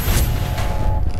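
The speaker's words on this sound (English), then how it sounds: "artillery." A short burst of artillery fire in the shooter game Black Squad: a loud, dense boom and crackle filling just over a second, close and alone, without speech.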